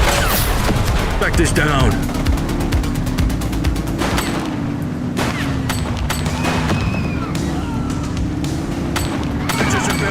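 Rapid bursts of gunfire from the video game The Precinct crackle through a loud mix of engine hum and booms, with repeated shots in quick sequences while a voice speaks briefly over the action.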